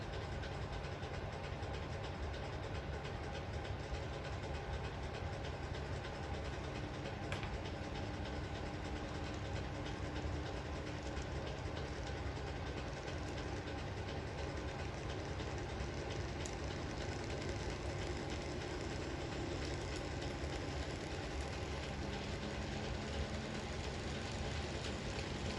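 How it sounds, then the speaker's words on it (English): A westbound model express train on a 1963-era Dawlish Warren layout runs with a continuous low mechanical hum and rumble, steady and fairly faint throughout, with no voices. "The westbound express departs."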